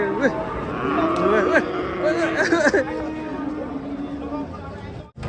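A cow lets out several long, drawn-out moos amid a crowd of people chattering nearby, the calls loud and close, rising and falling over a steady murmur of voices.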